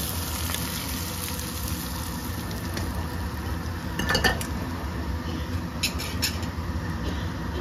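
Plates and utensils give occasional sharp clinks as fish curry, mourala macher chachchari, is dished up. The clinks stand out against a steady low background hum.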